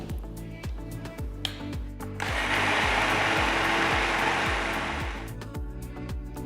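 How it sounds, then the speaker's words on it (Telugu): A mixer grinder whirs loudly and steadily for a few seconds grinding dosa batter, with rhythmic clicking and rattling of the jar before and after the motor runs. "మిక్సర్ జార్లో రుబ్బుతున్నాను"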